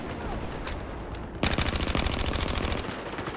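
Automatic gunfire in the first-person shooter Battlefield 2042, a rapid sustained burst of close, punchy shots after a quieter stretch with a few distant cracks.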